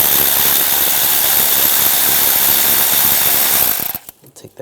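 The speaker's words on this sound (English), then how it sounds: "Now use the 10mm socket." A ratchet with a 10mm socket works on a bolt on a 1998-2010 Volkswagen Beetle, a dense continuous whirring rattle for about four seconds before it stops, followed by faint handling clicks.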